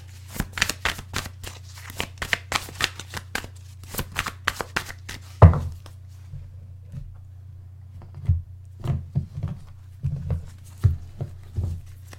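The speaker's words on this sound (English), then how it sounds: "One more shuffle." Tarot cards being shuffled up close, a rapid run of crisp riffling clicks, then slower scattered card taps and shuffles.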